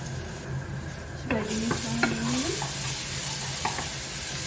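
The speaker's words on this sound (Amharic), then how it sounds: "ትንሽ ብራውን እስከሚሆንልን እንጠብሰዋለን።" Garlic fries in a pan for an Arab koshari dish, giving a soft steady sizzle close by while a utensil scrapes and stirs a few times, fairly quiet and with no talk.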